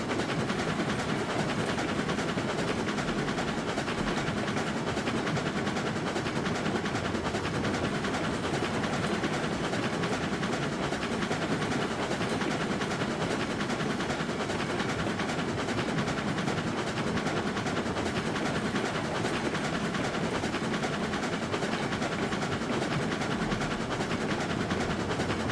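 A locomotive runs along railroad track in RailRoads Online, a loud, constant rumble with rolling wheel noise and engine drone that holds unchanged for the whole stretch.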